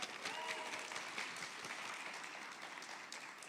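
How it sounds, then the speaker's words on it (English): An audience applauds after a cultural performance for Manit Day with continuous, soft, fairly distant clapping throughout. "Can we give them a round of applause, please?"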